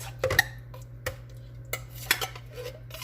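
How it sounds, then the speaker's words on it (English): A spoon clinks and scrapes against a dish in a few short, sharp taps while cream of chicken soup and condensed milk are stirred in, over a steady low hum. "We're going to mix in our cream of chicken, condensed milk."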